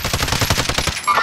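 A rapid burst of automatic gunfire in Call of Duty Warzone, loud and close, with a dozen or so evenly spaced shots in about a second.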